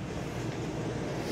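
A train rumbles past in Mirror's Edge, a steady, dense low roar that holds evenly through the brief moment with no voices.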